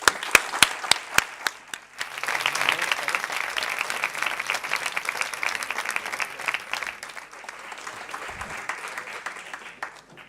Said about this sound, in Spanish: me gustaría dedicarle un fuerte aplauso por su dedicación y esfuerzo